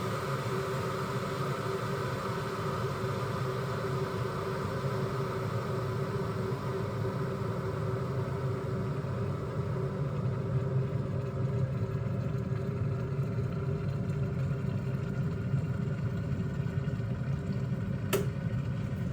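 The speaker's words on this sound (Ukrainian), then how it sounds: "чайник починає шуміти" A steady low roar and hum of a Braun WK 1500 BK electric kettle heating water, continuous and even, fairly quiet, with one brief click near the end.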